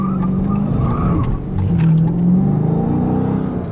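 Dodge Challenger R/T 6.4 V8 SRT rated at 485 hp driving nearby, its deep engine note droning steadily and rising in a throaty surge midway, loud and continuous with no talking.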